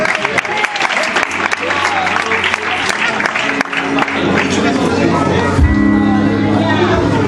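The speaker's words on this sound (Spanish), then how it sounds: "Un fuerte aplauso para el Señor" A church congregation breaks into loud, sustained applause for the Lord, dense clapping and crowd noise filling the space with voices and a low tone rising under it toward the end.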